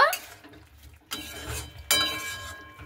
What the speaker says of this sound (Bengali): তো 2 চামচ আমি মশলাটাকে দিয়ে খুব ভালো মতো করে একটু নাড়াচাড়া করে নেব